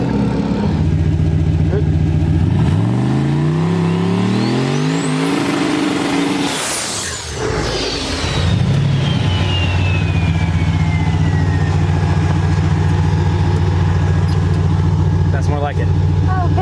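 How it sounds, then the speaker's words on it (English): A heavy turbocharged LS-powered Nissan truck engine revs hard during a burnout and climbs in pitch, with tires squealing loudly as the roar rises, then settles into steady loud idling. "You know how to do a f***ing burnout."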